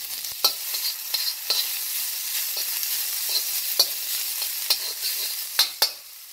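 Bean sprouts stir-fry in a hot wok for beef fried rice, giving a steady bright sizzle broken by sharp scraping clicks of the spatula against the metal, close and with no voices.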